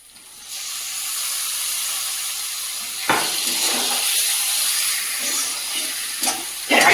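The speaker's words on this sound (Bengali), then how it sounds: "এই পর্যায়ে ম্যারিনেট করা মাংসগুলো দিয়ে দেবো" Marinated goat meat drops into oil with fried spices and erupts into a loud, steady sizzling hiss, with a few sharp crackles and bumps of movement in the pan, no talking.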